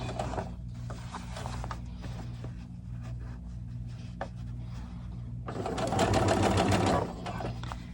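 Sewing machine stitching a doll T-shirt, a steady mechanical whirring run close by that speeds up and grows louder toward the end, with no talk.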